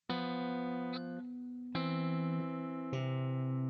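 A sequence of three sustained chords, the tense dominant harmony moving onto a settled, resolving chord, each struck cleanly and ringing alone.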